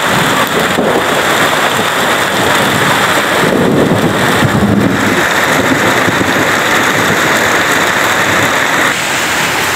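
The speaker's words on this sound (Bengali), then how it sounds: "টিনের চালে বৃষ্টির আওয়াজ শুনতে ভালোই লাগে।" Heavy rain drums steadily and loudly on a tin roof, a dense continuous hiss with no voices.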